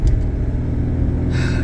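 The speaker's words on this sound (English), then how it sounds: "The engine sounds really quiet now, which is awesome." A car engine, in a cheap used car after a timing belt issue, rumbles steadily from inside the cabin and rises slightly in revs toward the end, loud and close with no talk.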